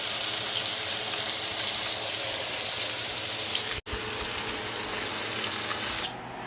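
Flounder fries in very hot grease with a continuous loud hiss and sizzle. There is a brief dropout midway, and the sound softens near the end.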